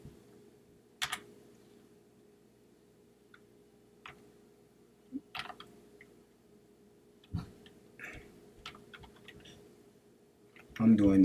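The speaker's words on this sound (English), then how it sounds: "All we doing is typing in that domain" Slow, hesitant typing on a computer keyboard, scattered soft key clicks with pauses between them, close and quiet, with a louder burst of handling noise at the end.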